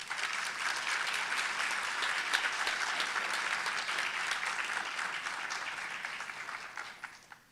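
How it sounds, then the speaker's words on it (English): An audience at a National Honor Society induction ceremony gives a full round of applause, steady dense clapping from many hands that holds for about seven seconds before thinning and fading out at the end. "Please join me in thanking them with a round of applause."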